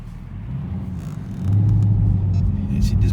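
Supercharged Chevrolet Camaro ZL1 1LE accelerating hard from the cabin, a low rumble that jumps suddenly into a loud, sustained deep engine roar with a rising note.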